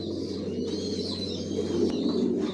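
Imported racing pigeons, black racers of a Johnson long-distance line, coo softly in their loft, with a low throaty call close by over faint background hiss.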